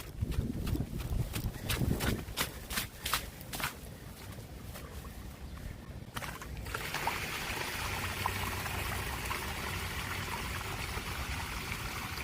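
Water drains out of a French drain outlet after four inches of rain in Royal Oak, Michigan: a few seconds of irregular clicks and knocks, then a steady rushing trickle flowing continuously at close range.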